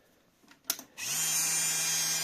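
Small electric motor spun up to around 10,000 RPM: after a couple of soft clicks and a brief tap, it starts abruptly and settles into a loud, steady high-pitched whine with a constant low hum beneath.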